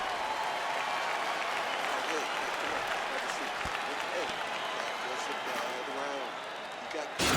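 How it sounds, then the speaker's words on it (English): A UFC arena crowd applauding and cheering after a round, a dense sustained wash of clapping and crowd noise heard from a distance throughout, with a sharp thump near the end. "So the crowd voicing its appreciation after that round."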